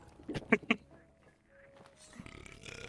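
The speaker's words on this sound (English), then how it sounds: "after I just finished burping" A person lets out a series of three quick, close, throaty burps in a row, followed by quieter shuffling room noise and faint background sound.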